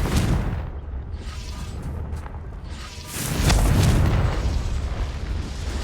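Confringo spell blast in the Hogwarts video game, a deep booming explosion swelling midway and rumbling on, preceded by a softer whooshing burst and crackling debris.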